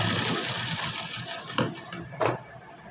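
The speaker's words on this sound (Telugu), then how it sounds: "రెండు ఆపోజిట్ వేసుకొని ఈ లైనింగ్ అనేది పైన వేసుకొని ఒక పాదం తేడాతోటి స్టిచ్ అయితే" A sewing machine stitches the lining onto a blouse in a close, rapid mechanical whir that runs on and then breaks into a few short separate bursts near the end.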